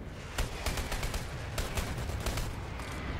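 Scattered gunshots crack in the online shooter Dirty Bomb, several sharp bursts at moderate distance over a constant rumble of battlefield noise.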